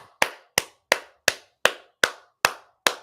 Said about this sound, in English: We're going to get a real clap.